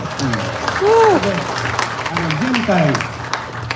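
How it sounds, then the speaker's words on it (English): Outdoor crowd at a motorsport festival applauding a racing guest, steady clapping with voices talking and calling over it. "big round of applause"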